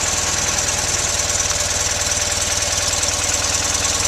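A 1965 BMW R 95 S motorcycle engine idling steadily after a cold start, a close, even low throb with a rapid regular pulse and a constant mechanical hiss, running alone without talk.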